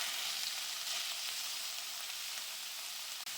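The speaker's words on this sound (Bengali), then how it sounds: "এবার এটাকে এই ঘিয়ের মধ্যে দিয়ে ভালো করে ভাজবো।" Grated red carrots fry in ghee in a wok over high gas, a steady close hiss of sizzling with a faint stir near the end.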